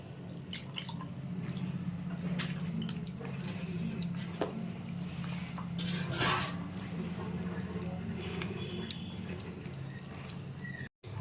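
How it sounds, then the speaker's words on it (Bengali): Powa pitha batter being mixed and beaten by hand, with wet squishing and slapping beats under a low steady background hum, ending with a brief knock. "এটাকে আমি ভালো করে মেখে নেব ফেটিয়ে নিচ্ছি"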